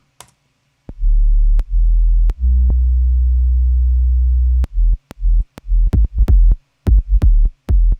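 An EDM track with the tape saturation switched off: deep sustained sub-bass tones in blocks, then sharp, punchy clicky hits that stutter in irregular bursts, loud and dry with no talking.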